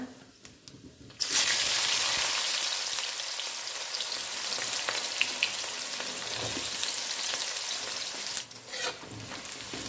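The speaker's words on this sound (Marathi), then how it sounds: "कांदा परतून घ्यायचा।" Onions sizzle and crackle loudly in a pan for Kolhapuri mutton, starting with a sudden hiss and continuing as a dense, steady frying noise close by with no talk.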